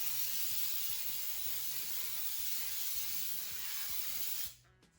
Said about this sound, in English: let's spray this generously with baker's spray